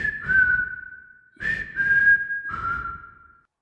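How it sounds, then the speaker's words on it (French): Someone whistles a catchy melody from a strange advert in three clear, bright phrases, each sliding and then holding a note, with short pauses between them. "La musique, c'était le sifflement que j'avais entendu tout à l'heure, une mélodie entraînante qui restait bien en tête"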